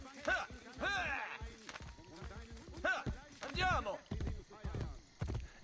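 Horse hooves clip-clop at a run in the video game Assassin's Creed Brotherhood, a steady rhythmic clatter under frequent talking by a man.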